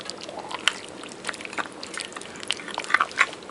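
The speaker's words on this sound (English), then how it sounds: "I'm tasting food" Someone chews and bites while tasting Haitian soup joumou, with soft wet smacking and chewing sounds close to the mic, several sharper clicks standing out against quiet room noise.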